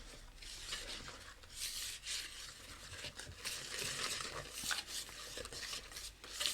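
Cake batter of flour and baking powder being mixed in a bowl, a steady close scraping and stirring rasp that continues without pause and without talk.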